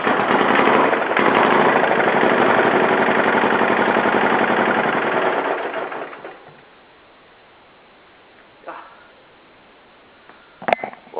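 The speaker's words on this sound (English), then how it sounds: "that's how easy the Lombardini engine starts" A Lombardini diesel engine fitted to a BMW motorbike runs with a steady, loud, close-up clatter for about six seconds, then cuts out, leaving near silence broken by a couple of faint knocks.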